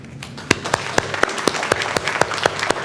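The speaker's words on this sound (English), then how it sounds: "a round of applause for Jasmine Mendoza." Audience applause at a school board meeting honoring a middle school reading winner: sharp individual claps ring out clearly over a steady wash of clapping, fairly close and moderately loud, with no talk over it.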